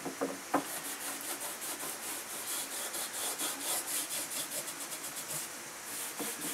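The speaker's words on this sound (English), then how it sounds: "Actually just hand rubbing it in there a little bit." Soft, rhythmic back-and-forth rubbing of a hand working finish into a wooden table, a quick steady series of strokes close by and fairly quiet, with a couple of light knocks near the start and no talk.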